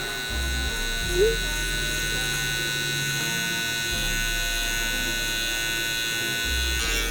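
An electric hair trimmer buzzes steadily during a low taper haircut, a close continuous hum with a couple of brief louder bumps as it works around the ear, with no one speaking.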